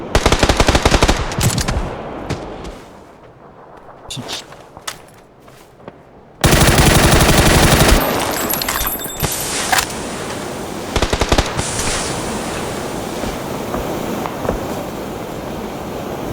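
Gunfire in the video game PUBG: rapid automatic bursts of shots, loud and close, first in scattered volleys and then as sustained fire over a noisy, wind-like background.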